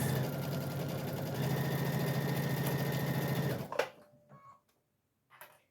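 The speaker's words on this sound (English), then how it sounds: "I'm using the foot right here as my guide, so I know I'm sewing straight" A sewing machine runs steadily while stitching a pillowcase, a close, continuous mechanical whir that stops abruptly, followed by a few faint handling clicks and near silence.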